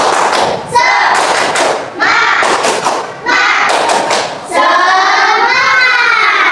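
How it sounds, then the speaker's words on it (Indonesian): A school class claps in a fast, patterned rhythm in several rounds, loud and close, ending with a burst of excited children's voices. "Tepuk semangat, ya. Tepuk semangat."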